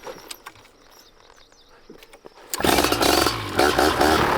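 A paramotor engine starting outdoors on a calm night: a few seconds of quiet clicks and rustles, then the engine abruptly catches and runs loudly and steadily nearby.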